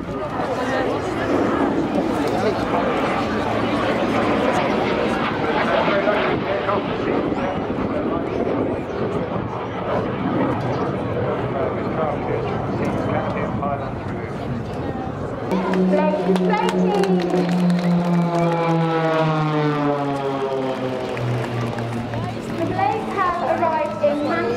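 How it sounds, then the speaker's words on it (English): Aerobatic display aircraft roaring over an airshow crowd at Torbay, loud and sustained, with the engine pitch sliding downward as it passes, under steady commentary over a loudspeaker. "Showing the full envelope of this aircraft, how stable it is."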